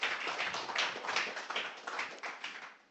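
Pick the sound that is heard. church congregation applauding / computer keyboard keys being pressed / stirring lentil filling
church congregation applauding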